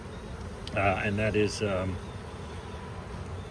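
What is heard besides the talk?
honeybees buzzing at an open hive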